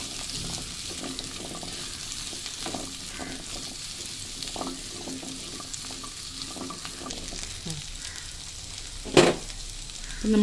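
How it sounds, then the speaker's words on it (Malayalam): Onions sautéing in a pan for chilli chammanthi, giving a steady close sizzle with intermittent stirring scrapes throughout and a sharp utensil clink near the end. "നമ്മുടെ ഉള്ളി ഒന്നൊരു 30 സെക്കൻഡോളം ഒന്ന് വഴറ്റിയിട്ടുണ്ട്."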